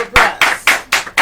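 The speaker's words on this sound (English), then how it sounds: "A round of applause." Applause at a girls' secondary school oratory competition final comes as a few loud, separate claps spaced evenly in a short burst, close and sharp with no voices.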